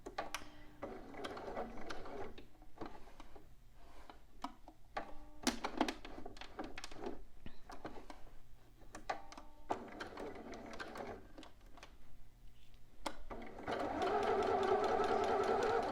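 Sewing machine stitching a bodice collar, its needle running in short mechanical bursts separated by pauses, then a steadier, louder run of stitching near the end; no talk.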